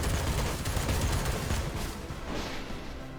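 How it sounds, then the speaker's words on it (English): Cannon fire from mechs in the Phantom Brigade video game, a dense roar of overlapping blasts and rumbling booms that fades slightly toward the end. "That's one cannon shot here."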